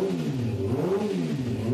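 A 600cc superbike engine revs steadily at close range, its tone rising and falling in smooth, continuous waves with no voices over it.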